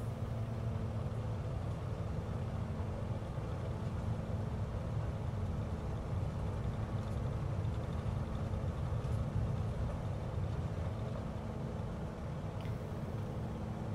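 Aircraft engine at full takeoff power in Microsoft Flight Simulator, a steady loud droning hum that holds throughout without variation.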